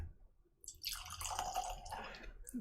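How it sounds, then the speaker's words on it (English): Kilchoman Islay whisky poured into a glass, a short close liquid splash and trickle lasting about two seconds after a brief quiet start. "Let's see what we get from the pour."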